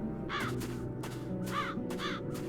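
Crows caw in harsh, repeated calls over a steady ambient backdrop in the fantasy adventure game The Dark Eye: Chains of Satinav, several rasping caws spaced across a few seconds at moderate distance.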